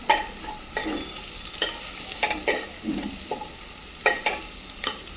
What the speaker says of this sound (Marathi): ते चांगलं परतलं गेलं.